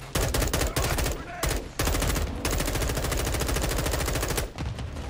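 Sustained machine gun fire in a military video game, a loud, fast, nearly continuous rattle of close shots with only a few brief pauses.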